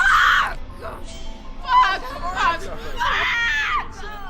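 A woman screams and cries out in pain as a wound on her hand is forcibly stitched, with sharp harmonic shrieks in bursts near the start and again toward the end, broken by whimpering cries between.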